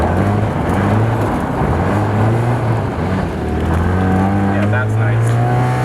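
An NA Miata with a Torsen limited-slip differential revs hard as its tires spin, a loud sustained engine drone with rising harmonics and some tire noise, close by, with voices talking over it.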